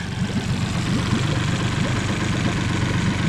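A Mercury 40 hp outboard motor idles steadily with a low, even rumble and a fine rhythmic chug, loud and close, running alone without voices throughout.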